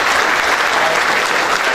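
Sustained applause from an audience at a Peruvian national awards ceremony, loud and steady throughout with no pauses and no voices rising above the clapping.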